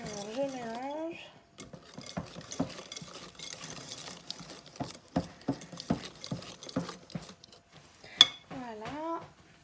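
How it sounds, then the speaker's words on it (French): Batter for a cherry cake gets stirred in a bowl, with soft, irregular scraping and tapping of a utensil against the bowl, close and moderately quiet. A voice talks briefly at the start and again near the end. "Alors je mélange."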